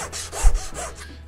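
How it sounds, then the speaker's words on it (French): A small Zona back saw cuts through wood in a few steady strokes, with a rhythmic rasping close by and no voices. "Bon, avec ma mini scie à dos"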